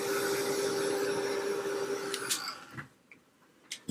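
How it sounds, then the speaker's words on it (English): A drying tool blows steadily on a wet journal page, a constant whooshing hum for over two seconds, then cuts out into near quiet broken by a few small taps and clicks. "I'm going to dry this for a second."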